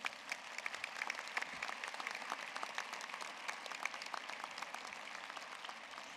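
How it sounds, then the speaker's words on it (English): Applause at a health professions graduation ceremony: a large audience claps steadily and evenly throughout, filling the hall at a moderate level. "Let's give her another round of applause."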